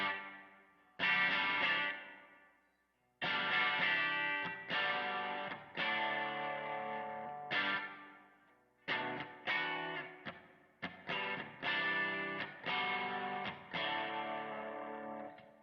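Electric guitar played through a pedalboard with edge-of-breakup saturation: slightly gritty strummed chords and held notes in phrases with short gaps, ringing out and decaying, alone with no voices.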